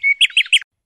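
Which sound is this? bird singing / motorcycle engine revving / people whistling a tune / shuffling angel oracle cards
bird singing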